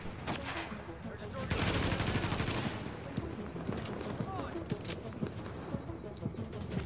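Repeated gunfire from the video game The Division, a dense burst of shots followed by scattered single reports, loud and close against a busy in-game backdrop with some talk.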